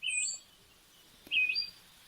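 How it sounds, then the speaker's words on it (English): Ambient birdsong from a relaxation app: two bright chirping bird calls, one at the start and another about a second later, with near silence between. "and birds chirping,"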